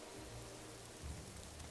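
Steady rain hisses as a dense, even wash of noise in the video game Morrowind, with a brief low rumble partway through and no talking.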